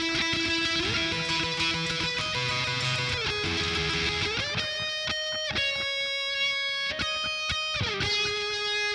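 An electric guitar plays without string bends. Sustained notes step between pitches in a steady, continuous line, close and full with no voices.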